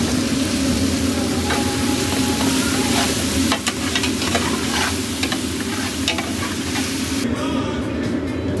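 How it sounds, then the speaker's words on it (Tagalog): Cabbage sautéing in a hot pan gives a loud, steady sizzle throughout, with scattered scraping and stirring clatter against the pan and no talking. "gisa na natin"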